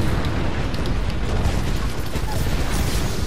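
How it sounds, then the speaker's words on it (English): Airstrike explosions in the Apex Legends battle royale game form a dense, continuous roar of booming blasts that fills the whole stretch at high volume without letup. "Watch it, airstrike."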